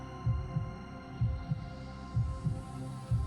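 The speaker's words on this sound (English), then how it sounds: "her heart pounding in her chest" A steady, heavy heartbeat pounds in a repeating lub-dub rhythm, about four beats, low and thudding over a soft background hum.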